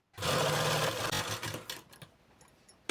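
Sewing machine stitching the lining onto a blouse runs in a steady, close whirring burst for about a second and a half, then slows and stops, with faint clicks and a brief final whir.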